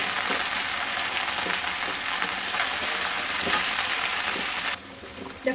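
Okra and potatoes fry in a pan with a constant, close, loud sizzle broken by occasional stirring knocks, then the frying noise abruptly falls quieter toward the end.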